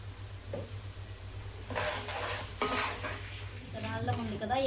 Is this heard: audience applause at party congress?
no